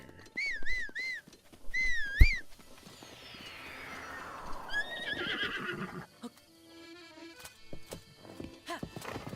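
A horse in The Legend of Zelda: Breath of the Wild neighs and whinnies twice near the start and again later, over steady hoof clip-clops and whistling game sounds.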